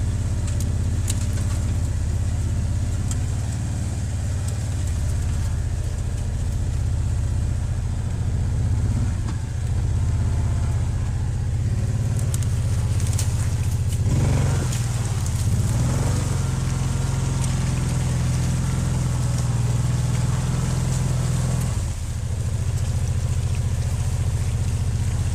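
A 2014 Kawasaki Teryx 800 side-by-side drives along with a steady low engine drone, recorded close from on board, its tone shifting slightly mid-ride and briefly dipping near the end.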